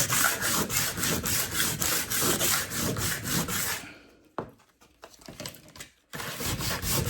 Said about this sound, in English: I will just sand off because it's just chalk paint